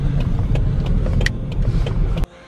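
A car drives into a refugee camp in Syria. The engine drones loud and steady with rough road rumble and a few faint knocks, then cuts off abruptly near the end.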